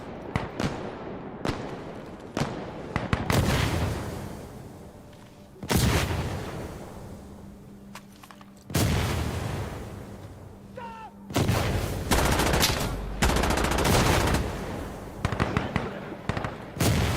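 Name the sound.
artillery fire in video game Insurgency Sandstorm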